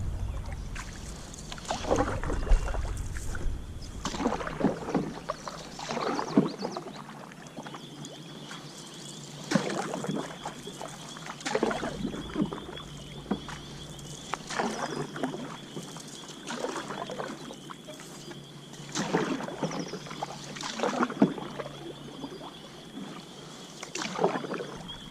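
Paddle strokes from a Bell Magic solo canoe out bass fishing, repeated soft splashes and drips at a steady rhythm every few seconds, close by over quiet water.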